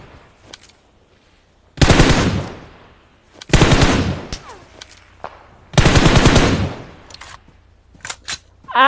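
Sniper rifle fire in a battle royale shooter video game, with three loud, sharp shots, each followed by a long ringing decay, spaced about two seconds apart, and fainter game sounds between them.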